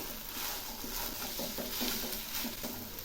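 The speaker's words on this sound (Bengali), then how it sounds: "এখন এই কচুগুলো আমি একটু নেড়ে দিচ্ছি।" Taro pieces seasoned with salt and turmeric frying in a pan while being stirred, giving a soft continuous sizzle with gentle scraping and patter, close and fairly quiet, with no voices.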